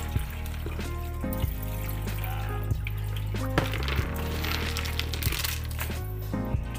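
Water is poured over bean sprouts being grown for a parrot, giving a steady splashing, trickling stream with small clinks throughout, close and fairly loud.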